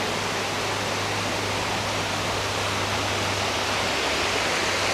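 Ettina Hole waterfall on the Shiradi Ghat route gives a loud, steady roar of falling water. It fills the clip evenly and unbroken, with no voices.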